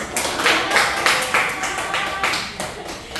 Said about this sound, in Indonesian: Tepuk tangan dulu buat Gustin.